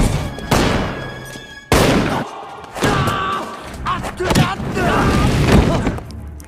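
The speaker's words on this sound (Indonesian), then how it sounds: "Lantas baku tembak dan pertarungan pun terjadi." Gunfight in a cowboy film, with heavy booming shots and thuds arriving in several loud bursts over a dense mix of voices and background score.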